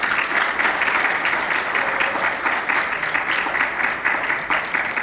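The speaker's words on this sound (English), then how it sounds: "Could you please give a round of applause for this?" An audience applauds volunteers at an Islamic event with steady, dense clapping from many hands, loud and sustained throughout without a break.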